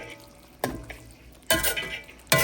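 A spoon stirs Puerto Rican yellow rice with pigeon peas in a pot, giving three separate scraping, sloshing bursts over a low simmering sizzle.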